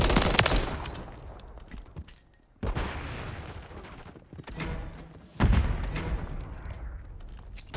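Bursts of gunfire in Call of Duty: Modern Warfare 3 on PS5, loud volleys broken by a short lull, with dense rapid shots and heavy thumps.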